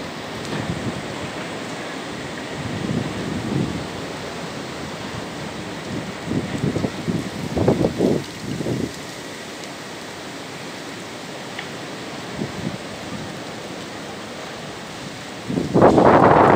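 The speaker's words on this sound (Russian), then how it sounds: "Гудит еще этот ветер, конечно." Steady rushing wind in Almaty, Kazakhstan, under an overcast sky fills the whole stretch, with gusty swells and surging bursts rising and falling, loudest toward the end.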